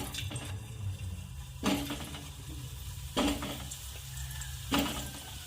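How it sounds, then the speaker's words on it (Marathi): Washed potatoes for dum aloo fry in hot oil, a soft steady sizzle broken by three louder stirring splashes about every one and a half seconds, close but fairly quiet. "आता आपण याला छान फ्राय करू तेलामध्ये"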